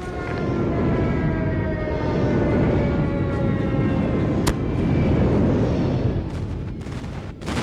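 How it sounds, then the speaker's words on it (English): A stealth helicopter killstreak in Call of Duty flies in as a loud, steady broadband roar with a faint whine, sustained throughout and briefly punctuated by a sharp crack near the middle. "Stealth chopper inbound."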